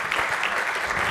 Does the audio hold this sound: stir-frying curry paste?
no